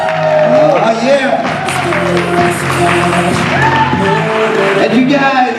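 Wedding guests applaud and cheer the newlyweds Mr. and Mrs. Brooker, dense clapping and whoops running throughout beneath loud music with singing.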